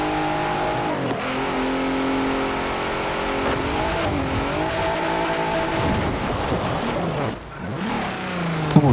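A Ford F-150 Raptor truck in Forza Horizon 4 revs its engine loudly and continuously, the pitch rising and falling through gear changes with a brief dip near the end, close and steady throughout.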